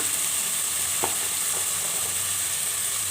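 Potatoes and carrots go into a pan of curry with tomatoes already cooking, giving a steady loud sizzle and frying hiss with a couple of faint stirring taps.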